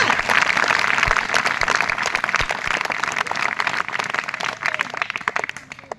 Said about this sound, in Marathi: त्यांच्यासाठी इच्छा जोरदार टाळ्या होऊ द्या